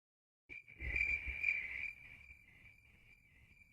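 Steady, shrill cricket chirping played from a sound file, starting abruptly and holding a continuous high trill, loud at first and then easing slightly.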